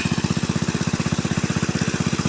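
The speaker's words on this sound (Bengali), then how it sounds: "দেখতে পাচ্ছেন এই দেখতে পাচ্ছেন মেশিন চালিয়ে দিয়েছি।" A water pump engine runs close by at a pond, giving a steady, fast, even chugging throb with no pauses and no voices.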